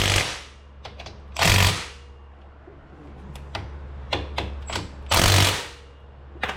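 Milwaukee impact driver tightening the bolts on a Polaris front differential, with two loud sustained whirring bursts separated by sharper clicks and taps, close by, with no talk.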